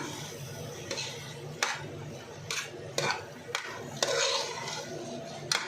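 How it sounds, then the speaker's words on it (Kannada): A spoon clinks and scrapes against a pan in irregular knocks while mushrooms and masala are stirred and fried for mushroom biryani, over a low steady background. "ಈಗ ಚೆನ್ನಾಗಿ ಇದೆಲ್ಲ ಮಿಕ್ಸ್ ಕೊಟ್ಕೊಂಡು ಒಂದು ಎರಡು ನಿಮಿಷ ಚೆನ್ನಾಗಿ ಆ ಮಶ್ರೂಮ್ಗೆ ನಾವು ಹಾಕಿರೋ ಮಸಾಲೆ ಎಲ್ಲ ಚೆನ್ನಾಗಿ ಹಿಡಿಬೇಕು ಅಲ್ಲಿ ತನಕ ಫ್ರೈ ಮಾಡ್ಕೊಳ್ಳೋಣ"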